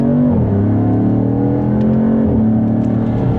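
A 2026 Dodge Charger Scat Pack pulls hard in second gear in sport mode, its loud engine note rising and dropping once as a quick shift lands, heard close from inside the cabin.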